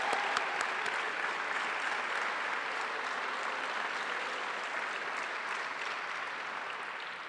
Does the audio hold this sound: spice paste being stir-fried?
no